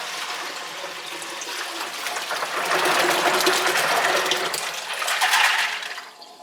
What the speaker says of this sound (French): Donc on va enlever l'eau de nos fèves dans une passoire.